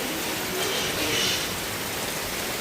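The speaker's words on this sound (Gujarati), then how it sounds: "જેવો વરસાદ ચાલુ થયો ને તરત જ નેવો ચાલુ થઈ જશે" Steady rain falls with water dripping off the roof eaves, a continuous close hiss of broadband noise with no distinct individual drops standing out.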